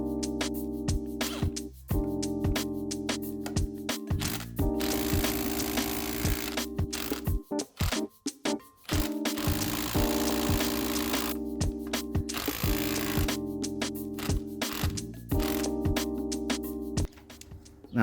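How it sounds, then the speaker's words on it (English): Tools working on car engine mount screws on an Alfa Romeo Giulietta, a steady close mechanical whirring broken by short pauses and clicks, with sustained tonal hum running throughout. "now you can see that we got access to pretty much all of the screws. I'm gonna start by loosening these three here."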